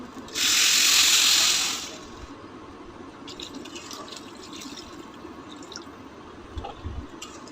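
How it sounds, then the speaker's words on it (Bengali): Water pours in a short, loud rushing burst into a pan of fried rice and spices for polao, then gives way to low sizzling and faint clinks. "ভেজে নেওয়া হয়ে গেলে দিয়ে দিব পরিমাণ মতো পানি।"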